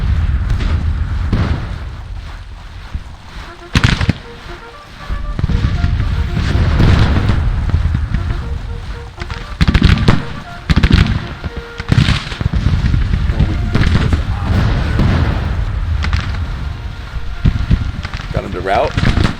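Civil War artillery fires in the strategy game Grand Tactician: Civil War as repeated booming blasts, with some sharp cracks and rumbling between shots, while someone talks over the battle.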